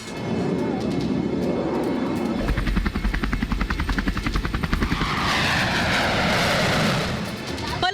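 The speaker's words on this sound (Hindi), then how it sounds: "आसमान में गरजे भारतीय लड़ाकू विमान।" Indian fighter jets roar overhead in a loud, sustained, broadband rush that swells and thickens about midway, then eases slightly near the end.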